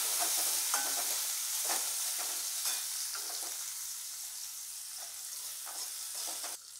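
Curry leaves sautéing in hot oil for an egg curry, a steady close sizzle with soft scraping stirs of a spatula, continuous and fairly quiet with no talking.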